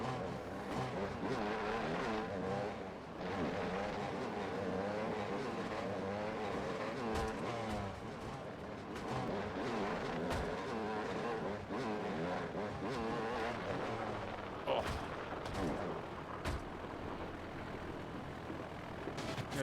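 Dirt bike engines in a racing video game, a continuous buzzing, revving motor whine with rising and falling pitch and occasional sharp knocks, carried along without talk.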